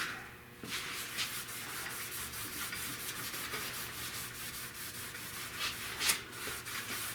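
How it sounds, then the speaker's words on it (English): Scuffing down a car dash pad before dyeing, a continuous close rubbing and sanding scrape with uneven strokes and a brief louder scrub near the end. "scuff this down real good."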